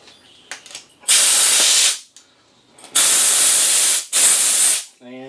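Compressed air hose with the wrong nozzle fitted, used during a grinder worm gear adjustment shaft repair, blasts in three loud, broadband hissing bursts of about a second each, separated by short quiet gaps with small clicks.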